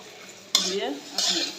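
Tomatoes with spices fry in a pan for tomato chicken pasta, two loud bursts of close sizzling and stirring rising suddenly over a low background hiss.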